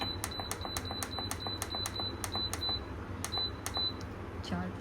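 An electric pressure cooker, set to four minutes for soaked rice, beeps as it is started: a quick run of short, high, even electronic beeps, clear and close over low background hum.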